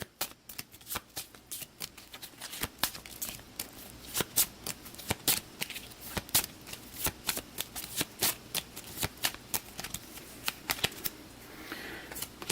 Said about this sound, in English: So we'll give the Dilemma deck a shuffle, and then Sana's going to be putting 1 on to